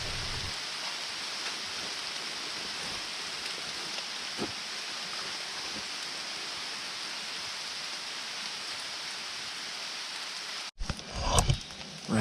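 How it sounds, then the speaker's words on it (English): Steady storm rain pattering all around in a continuous hiss during an Illinois turkey hunt, ending with a brief burst of close rustling. "Rain's slacking up."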